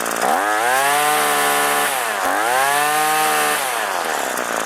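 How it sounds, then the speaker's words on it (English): A Hitachi/Tanaka CG22EAS string trimmer engine screams at full throttle, loud and close. Its high two-stroke whine holds steady, with brief dips and recoveries in pitch partway through. "let you guys listen to how much throttle I actually use to trim"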